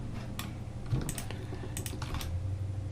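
Computer keys are pressed for shortcuts in Blender, a handful of quick, close clicks and taps coming in small clusters.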